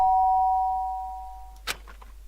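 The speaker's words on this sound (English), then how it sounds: "the sound of the doorbell forced its way into my room" A doorbell chimes in the Danganronpa video game, a clear sustained bell tone that fades out over about a second and a half, followed by a short soft thud.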